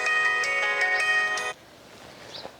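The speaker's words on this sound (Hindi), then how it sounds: "अरे केकर फोन आवता है" A mobile phone rings with a bright, repeating electronic melody that plays loudly and close for about a second and a half, then cuts off abruptly, leaving quiet background.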